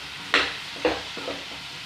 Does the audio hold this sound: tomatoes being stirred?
yes